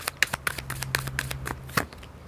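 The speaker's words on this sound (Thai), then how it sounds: "ขอไพ่แนะนำหน่อย ขอไพ่แนะนำให้ห้าใบสิ" Tarot cards are shuffled and laid out by hand, a run of crisp close flicks and slaps at an uneven pace, with a faint low hum underneath.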